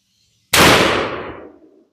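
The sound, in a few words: gunshot from a 6.5 Grendel carbine rifle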